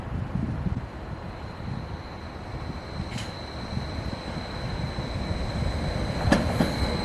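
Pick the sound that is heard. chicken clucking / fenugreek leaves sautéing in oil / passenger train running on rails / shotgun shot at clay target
passenger train running on rails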